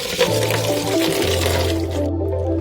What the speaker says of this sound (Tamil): அதான் ஃபுல்லாக மேனுவலாக இந்த மாதிரி வாஷ் பண்ணிவிடுங்க